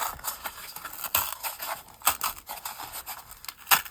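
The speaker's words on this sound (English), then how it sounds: "It's a tag, and it's a grungy tag, so we should be able to rip it." A grungy paper craft tag being torn by hand, a series of irregular rasping rips and crinkles at close range, with no talk.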